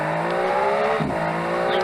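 A 1000cc track car engine in a driving video game runs hard on a test lap, its loud, steady drone holding near and alone before a brief shift in pitch midway, then pressing on.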